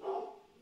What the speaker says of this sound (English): Sorry, my dog. Someone's at the front door, but it's fine.